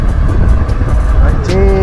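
Cars cruise in at the Mad Bomberz 13th annual car show, their engines a low, near rumble under people talking, with a brief tonal sound near the end.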